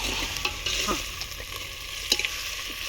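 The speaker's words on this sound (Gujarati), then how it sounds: "હવે ટમેટું નાખવાનું તો ટમેટું ઉમેરી દો" Tomato goes into a cooking gravy for a Kathiawadi green peanut curry, giving a steady sizzle with scraping stir clicks and a sharper burst of frying midway, no talking.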